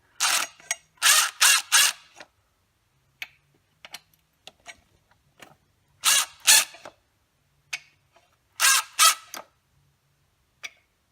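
A power tool snugs down bolts on a BMW E46 M3 SMG transmission in several short whirring, ratcheting bursts with quiet gaps and small clicks between them, close by and without talk.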